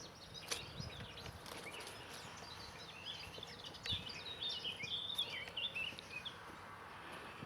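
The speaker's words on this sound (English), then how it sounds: "Don't know if you can hear the birds, but spring has definitely come for them" Birds chirp and twitter faintly in spring around an outdoor courtyard at Cefn Gribyn. Thin, high calls grow busier midway against a steady background hiss.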